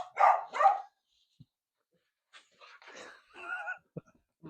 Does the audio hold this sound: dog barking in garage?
yes